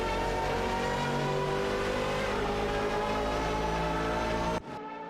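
Racing-game engines of an Aston Martin AMR1 and a Porsche 962C Longtail, a loud, sustained, layered drone that holds steady, then cuts off sharply near the end.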